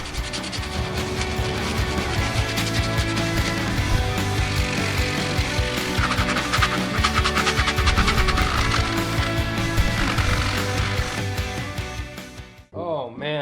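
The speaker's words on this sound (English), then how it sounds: "I've been sanding 2 hours and 40 minutes." Steady, loud sanding: a continuous gritty, whirring rasp that runs nearly unbroken before cutting off just before the end.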